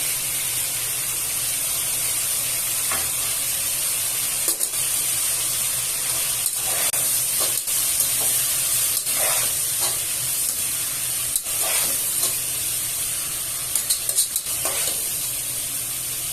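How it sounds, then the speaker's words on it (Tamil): Chicken curry with sliced tomatoes fries in a pan with a continuous close sizzle, while a spoon stirs through it in scattered scraping strokes and knocks; no one talks. "நல்லா மிக்ஸ் பண்ணி விட்டுக்கோங்க."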